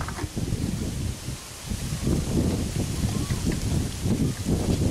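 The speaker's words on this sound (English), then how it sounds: "it's windy again." Steady outdoor wind noise rushing across the microphone in gusts, with low rumbling buffets and a rustling texture throughout.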